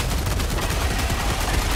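Rapid automatic gunfire from a Gatling sentry turret in Helldivers 2, a dense, continuous rattle of shots that stays loud and steady throughout with no voices over it.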